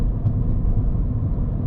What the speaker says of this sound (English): That's a nice growl to the engine.